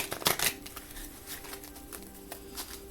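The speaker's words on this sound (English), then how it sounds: "the cards have been pre-shuffled, but I'm going to shuffle a little bit more" A quick riffle of cards near the start, followed by soft, light shuffling and patting sounds at low volume.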